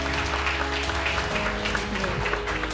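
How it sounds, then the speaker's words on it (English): Audience applause at a community diversity and equality event, a dense, continuous patter of many people clapping, fairly loud and close, with a faint murmur of voices underneath. "Give them a round of applause"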